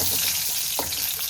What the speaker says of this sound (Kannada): first onion ಹಾಕ್ಕೊತಿದ್ದೀನಿ